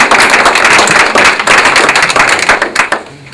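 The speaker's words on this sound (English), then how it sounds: "Let's give them a round of applause for getting" An audience at a mayoral candidates' night claps for the candidates, a loud, close burst of sharp, dense clapping that thins out toward the end.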